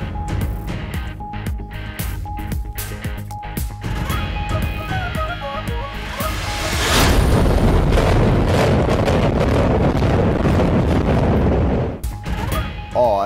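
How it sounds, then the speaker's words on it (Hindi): Explosive charges bring down a 60-year-old building in Jacksonville, Florida: sharp cracks and pops come first, then a loud sustained roar and rumble of collapse lasting several seconds before fading. "60 साल पुरानी इमारत को धमाका खेज मवाद से गिरा दिया गया"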